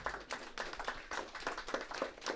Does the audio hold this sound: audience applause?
yes